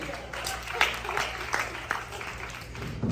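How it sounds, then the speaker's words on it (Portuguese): An audience in a Brazilian interview setting claps for Maria, a fairly faint, scattered round of applause with individual sharp claps standing out against the room. "Aplausos, mais aplausos para Maria agora."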